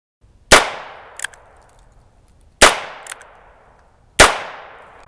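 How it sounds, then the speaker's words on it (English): Three sharp shots from a suppressed Heritage Tactical Cowboy revolver ring out about two seconds apart. Each has a quick decaying tail, and a faint metallic click follows the first two. There is no talking. "So here is the real sound of a suppressed revolver."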